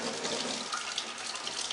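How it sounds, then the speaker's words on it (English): Water runs steadily from a faucet to rinse a printing screen, a constant bright hiss and splash, moderately quiet and alone. "you're going to want to turn on the faucet"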